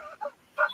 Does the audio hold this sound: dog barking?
yes